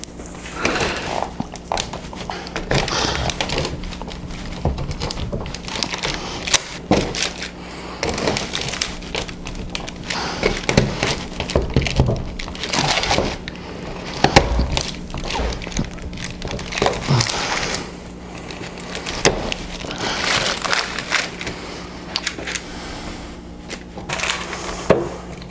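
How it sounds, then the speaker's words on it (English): Knife cutting set peppermint bark into pieces, giving repeated cracking snaps and dull thuds on a board, steady and close throughout with no speech. "this is the part where I'm going to cut it up in pieces"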